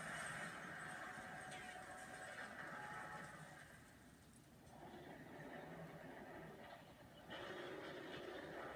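Rumbling train passage in a Shin Godzilla fan animation, a dense continuous roar with rattling and clatter that dips briefly mid-way and swells again near the end, with no speech.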